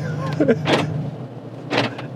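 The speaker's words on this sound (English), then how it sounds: "Locking and unlocking car is like my favorite thing about the car." A Mercedes G63 AMG G-Wagon locks and unlocks, giving two sharp, loud mechanical clacks about a second apart, close by, with faint background noise.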